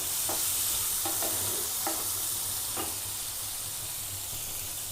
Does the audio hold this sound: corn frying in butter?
yes